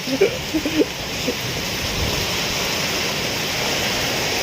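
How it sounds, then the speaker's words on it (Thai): Driving rain from a summer storm in Thailand pours down in a loud, continuous hiss, with wind pushing the downpour; a few short sounds poke through at the start. "ลมลมนสาดฝนสาด"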